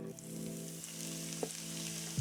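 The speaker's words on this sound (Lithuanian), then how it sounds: "kol morkytė su svogūnais čirška" Carrots and onions fry in oil in a heated pan for pea soup, giving a quiet, steady sizzle close by, with a soft clink midway and a low thud at the end.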